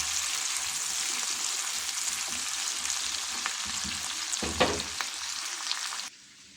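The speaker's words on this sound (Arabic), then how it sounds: "وهستنى لما البصل ده يتكرمل معايا وياخد لون" Onions and two garlic cloves fry in a pan until caramelized, a dense continuous close sizzle with a few soft stirring scrapes before the sound cuts off abruptly near the end.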